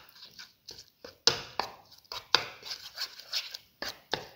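Red lentil and chickpea flour fritter batter is mixed by hand in a bowl, making close, wet, irregular slaps and squelches in quick uneven bursts.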